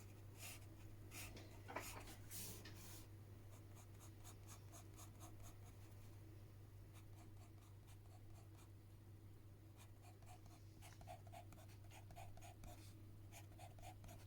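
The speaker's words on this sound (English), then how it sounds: "Notice the sound of the pencil on the piece of paper." Pencil scratching across paper in short strokes and longer scribbles, close and fairly quiet, over a steady low hum with no voices.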